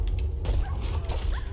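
Dog in the Fallout 4 video game giving a short burst of barks and yips, close and punchy over a low rumbling background.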